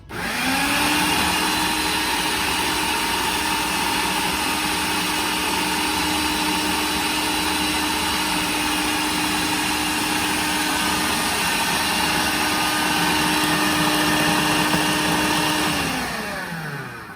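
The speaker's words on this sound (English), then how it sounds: "now that my food processor has mixed this basil pesto up beautifully" A food processor blends basil pesto with olive oil, its motor whirring at a steady, loud, even pitch for about sixteen seconds before spinning down at the end.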